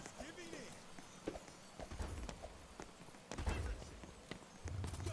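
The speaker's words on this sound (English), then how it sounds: "Time to get back on my horse." Horse hooves clop in quick rhythmic bursts in the game Q-Clash, mixed with other game sound effects and brief voice fragments, fairly quiet overall.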